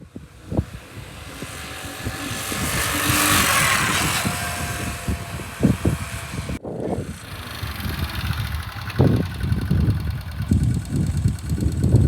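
A Honda CT110 motorcycle engine running after a piston and head rebuild, a noisy idle with irregular knocks and revs and a rising whoosh, close by.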